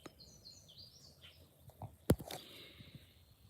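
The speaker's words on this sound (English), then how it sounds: "Hear the birds and stuff." Outdoor birdsong: a few faint high chirps and short whistled phrases from songbirds, with a sharp close click partway through and soft rustling below on a quiet day.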